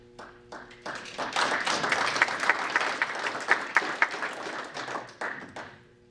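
An audience at a library author talk breaks into applause, starting with a few scattered claps, swelling into a full burst of many hands, then tapering off near the end.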